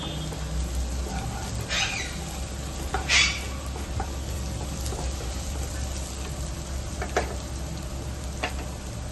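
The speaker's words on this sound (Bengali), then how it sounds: "আমাদের পেঁয়াজটা এখন ফ্রাই মোটামুটি হয়ে এসছে অনেকটাই" Chopped onions frying in a pan for lemon coriander garlic rice, a steady low sizzle running throughout with a couple of brief louder spatters and light stirring scrapes, no talking.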